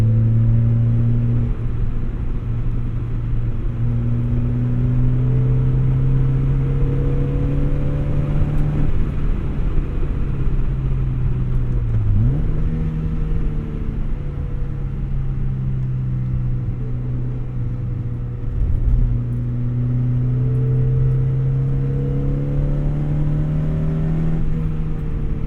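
1991 Mazda Miata engine pulling through its short gearing, heard from inside the car: a loud, steady engine drone with pitch climbing in each gear and brief dips at the shifts, continuous throughout.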